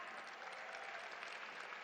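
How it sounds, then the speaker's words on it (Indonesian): An audience at a political speech event in Indonesia bursts into lively applause, a thick burst of clapping filling the hall for a couple of seconds without any talk. "Sekali lagi tepuk tangan dong yang meriah."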